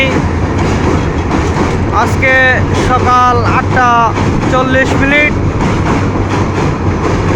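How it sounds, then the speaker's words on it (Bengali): A long passenger train leaving for Mymensingh rumbles steadily nearby, a continuous low clatter that persists while someone talks over it. "ময়মনসিংহে চলে যাচ্ছে ট্রেনটি"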